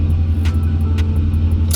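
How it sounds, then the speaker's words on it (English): Mercedes 500 SEC C126 coupe V8 revving under throttle, a loud, close, rumbling engine note with a steady low growl and faint ticking accents, no talking over it. "if you start this and you get on it, like you know, start getting on the pedal, you can hear the car breathe"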